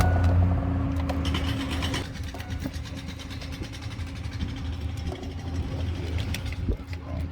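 The engine of a Chevy Uplander minivan runs steadily at idle after being started, a low continuous hum with faint mechanical ticking, and a voice talks over it.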